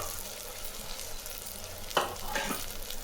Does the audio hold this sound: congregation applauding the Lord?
no